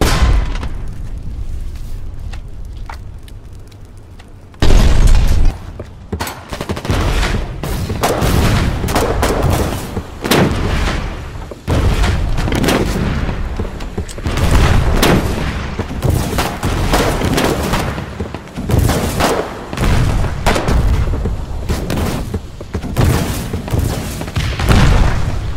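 Artillery and explosions in a WWII-style battle game boom in rapid, dense succession. A brief quieter lead-in gives way to heavy, continuous, loud blasts and gunfire that last to the end.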